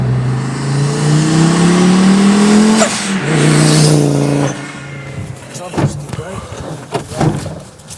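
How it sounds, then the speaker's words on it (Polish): A Fiat Coupe race car's two-litre inline five-cylinder engine revs up loudly, its pitch climbing smoothly, dropping briefly and rising again, before falling away as a voice begins speaking. "rzędowy pięciocylindrowy silnik o pojemności 2 litrów"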